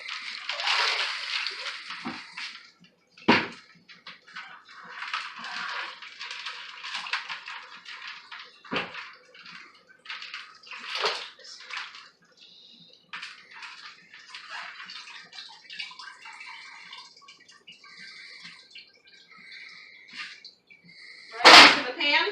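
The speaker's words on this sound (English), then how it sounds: "now I'm going to get my turkey out of the brine" A turkey being lifted out of a brine bath, with intermittent water sloshing, splashing and dripping, moderately close and fairly quiet, with a few louder splashes.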